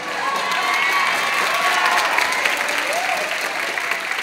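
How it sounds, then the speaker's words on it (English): An audience applauds at a high school choral holiday concert, steady dense clapping with scattered cheers and voices mixed in, sustained throughout. "But we can applaud for Dr. Schwartz again."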